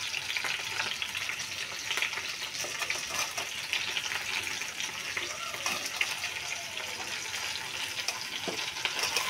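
Chopped ginger, green chilies and chana dal sizzling in oil for a masala dosa filling, a dense, even hiss that runs throughout with faint scraping, close and unbroken.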